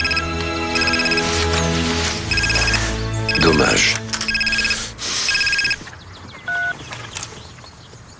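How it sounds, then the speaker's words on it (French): A mobile phone rings in a loud, regular electronic pattern of repeated tone bursts, set in a drama scene, with people talking over and between the rings before it stops. "Ton téléphone."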